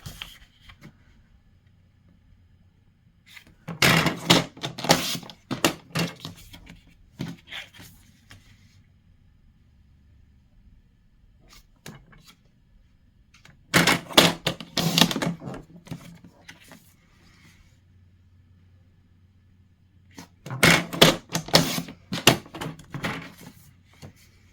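Paper being cut into pieces for a handmade card, heard as three separate bursts of crisp rustling and cutting noise with quiet pauses between them, close by and with no talking.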